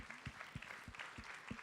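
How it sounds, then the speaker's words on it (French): Faint, distant applause at a festival award ceremony for winners coming up to the stage, heard as a steady patter of claps in a large hall. "On peut les applaudir."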